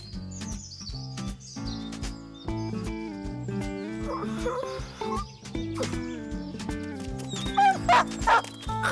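A dog in an animated French cartoon series yips, barks and whimpers in short bursts over a bouncy musical score, with no talking.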